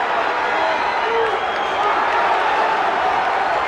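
Dense arena crowd at a heavyweight boxing bout between Ray Mercer and Tommy Morrison swells into a steady roar of cheering, loud and continuous throughout with a commentator's voice faintly underneath.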